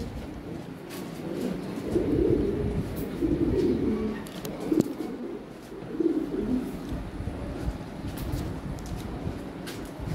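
Lahori pigeons coo in low, repeated rolling calls, several overlapping phrases close by over a faint background with occasional clicks and knocks, and no one speaking.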